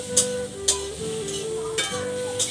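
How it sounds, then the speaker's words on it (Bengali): Onion and tomato masala frying in a wok, with a steady sizzle and a few sharp spatula scrapes at regular intervals, close and fairly loud, alone without talk. "এগুলিকে সুন্দরভাবে কড়াইতে ফ্রাই করে নিচ্ছি"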